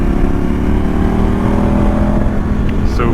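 KTM 1290 Super Adventure R motorcycle fitted with 19/17 wheels, riding at a fairly slow pace in sixth gear: a steady, loud engine drone with a low harmonic hum and road-wind noise, holding level throughout with a faint rise near the end.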